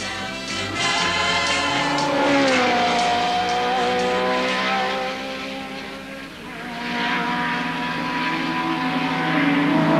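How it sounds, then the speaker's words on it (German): A Porsche 914-6 race car at Le Mans, its engine note rising and falling as it accelerates and passes, with a droning, slightly distant tone. "fährt in der GT-Wertung ein neuer 914-6, gemeldet von Sonoto, dem französischen Porsche-Importeur, besetzt mit den Fahrern Chasseuil und Ballo"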